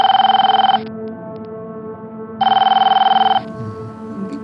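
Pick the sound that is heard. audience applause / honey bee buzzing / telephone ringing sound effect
telephone ringing sound effect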